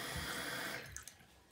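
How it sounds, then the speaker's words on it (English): Tap water runs steadily into a container while slime is being made, a soft continuous splashing hiss that tapers off near the end with a couple of faint drips. "Now we're just going to add a little bit of water."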